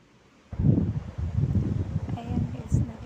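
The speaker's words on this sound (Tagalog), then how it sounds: "grabe na yung hangin dito sa Dubai ngayon" Strong wind blows in gusts outside at three in the morning in Dubai, a near, buffeting whoosh that rises and falls after a quiet start.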